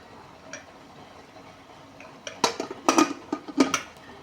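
A metal pressure cooker lid is fitted and locked in place over washed dal cooking in water for puran poli: a handful of sharp metallic clinks and clicks in a quick cluster, close by, after a quiet stretch.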